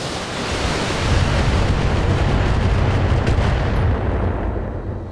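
Weapon fire strikes a mech in the Battletech video game, a loud, dense continuous roar of blasts and explosions sustained for several seconds.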